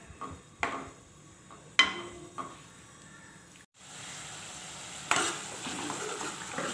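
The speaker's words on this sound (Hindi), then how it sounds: "खुला हुआ 10 मिनट तक पकाना है और चमचा चलाते रहना है" Kaleji liver curry cooks in an open pan, sizzling steadily while a spoon scrapes and clinks against the metal in irregular strokes, close and moderately loud, with a brief hush midway before the frying resumes.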